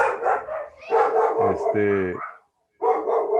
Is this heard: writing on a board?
no